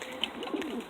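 Birmingham Roller pigeons coo softly in a low, burbling murmur, close but quiet, with a couple of brief higher chirps over faint background noise.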